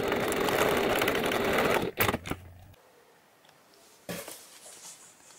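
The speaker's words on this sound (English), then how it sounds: "I am going to sew from the center here to the center here, straight down one line of stitching." A sewing machine stitches a straight line through the fabric of a memory bear, running fast and close for about two seconds before stopping, followed by brief clicks and a short second burst.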